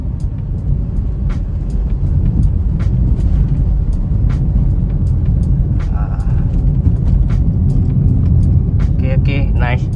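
Interior road noise from a car on a test drive over a potholed road, constant low rumble with scattered thumps and clicks, a person speaking briefly near the end.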